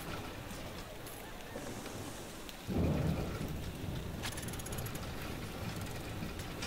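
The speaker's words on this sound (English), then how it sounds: "Oh, gross, it's raining. No, rain!" Rain falls steadily in the theme park game Parkitect, a dense hiss that swells suddenly as a deep thunder rumble rolls in midway and then fades back into the continuous downpour.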